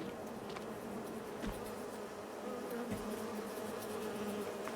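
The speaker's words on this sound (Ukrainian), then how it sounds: "Так що тут наші бджоли гудуть." Bees buzz steadily at the hives on a farm in Farming Simulator 22, a faint, continuous insect drone with a few soft thumps in the background.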